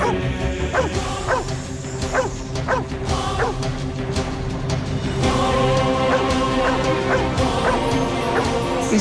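A dog barks repeatedly in sharp, close yips and bow-wows over a busy background of crashes and ambient noise.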